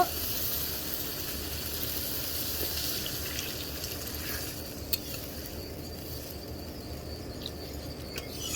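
Water poured into a pan of pabda fish curry cooking with cumin, turmeric and chilli, giving a steady, faint gushing hiss that runs evenly throughout.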